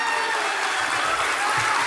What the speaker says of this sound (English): like I say that, you applaud, I start talking before you finish your applause.